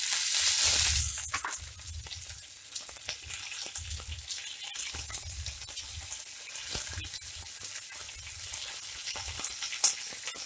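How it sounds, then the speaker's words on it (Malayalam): Curry leaves, dried chilies and peanuts fry in hot oil with a soft, steady sizzle, joined by a sharp burst of hiss at the start and dull intermittent knocks of stirring. "എല്ലാം ഒന്ന് എണ്ണയിലിട്ട് നന്നായി ഫ്രൈ ചെയ്യണം."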